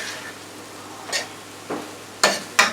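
A spatula scrapes and clatters through a bourbon chicken and vegetable stir fry with pasta in a hot pan, several sharp strokes, louder toward the end, over a low sizzle and no talking.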